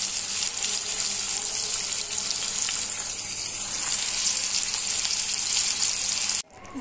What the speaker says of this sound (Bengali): তেল গরম হয়ে গেছে, আমি চিংড়ি মাছগুলো দিয়ে নিয়েছি